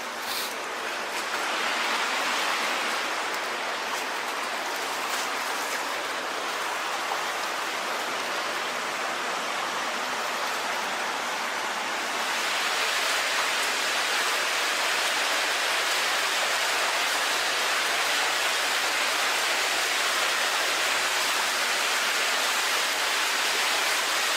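Loud rushing water from a deepening stream fills the whole stretch with a steady, dense roar that swells slightly partway through, with no voices.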